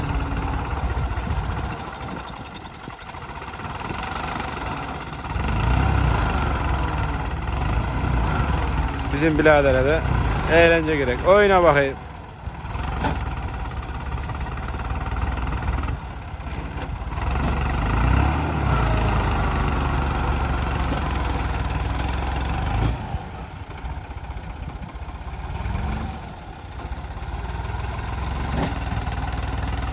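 Tractor stuck in mud in a field, its engine idling with a steady low rumble under frequent talk from men nearby, plus a brief burst of music partway through.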